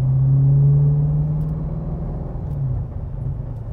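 Deep, rumbling V8 drone from a 6.2-litre LS3 swapped into a Subaru BRZ coupé driving on the road, a steady low engine hum heard from inside the car with air conditioning running.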